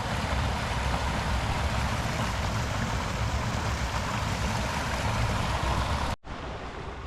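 A stream of high water runs through a forest, rushing in a loud, steady wash for about six seconds before a brief cut, then continuing a little quieter.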